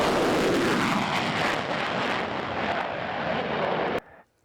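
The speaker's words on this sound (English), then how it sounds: "People in the Northland and the UP could hear the jets." Fighter jets of the 148th Fighter Wing roar overhead at night, a loud, broad continuous rumble that holds steady and then cuts off abruptly near the end.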